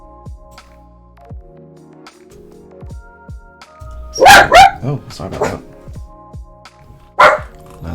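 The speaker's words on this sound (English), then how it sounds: "Loud dog." A loud dog barks in several sharp, close bursts, scattered among quieter knocks and room sounds, with someone speaking briefly in between.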